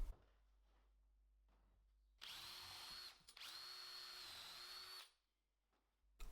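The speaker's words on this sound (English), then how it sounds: "So first I drill some holes with a countersinking bit." Power drill with a countersinking bit bores holes into wood in two close, steady whirring bursts of a few seconds each, separated by a brief pause, with quiet surroundings before and after.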